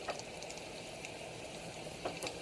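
Diced onion sizzling in olive oil in a pan for spaghetti alla carbonara, a soft, steady frying hiss with a few faint clinks of a spoon, quiet and close with no talking.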